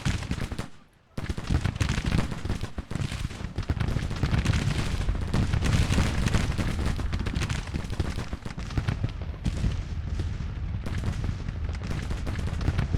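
Musket volleys crackle in the Grand Tactician Civil War strategy game, a dense, loud and nearly continuous rattle of shots with a brief lull near the start before the firing resumes and carries on.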